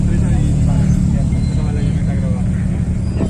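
Race cars roar past at the Nürburgring in Germany, a loud continuous engine drone with broad rumble filling the whole stretch, while spectators talk nearby.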